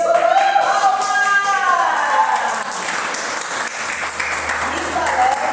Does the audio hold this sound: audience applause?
yes